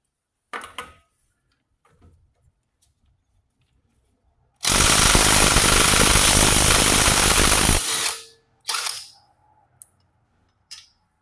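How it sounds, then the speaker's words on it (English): A battery-powered Craftsman impact driver hammers at a car wheel lug nut in one loud, sustained burst of rapid rattling impacts lasting about three seconds, framed by brief clicks and handling knocks before and after. "Now we're going to see if this can take that lug nut off there."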